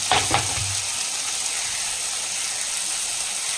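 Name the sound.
sauteing tomato and green chilli with rock salt in pan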